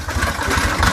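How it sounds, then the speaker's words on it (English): A car engine revs with its engine mounts unbolted, giving a loping big-cam rumble. The low, throbbing pulses stay steady and close for about a second, with no talk. "if you unbolt your engine mounts and rev it to the moon, you can end up with a super neat big cam sound"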